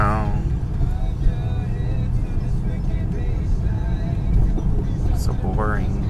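A car drives through a canyon with a steady, close road and engine rumble throughout, and a voice talks over it.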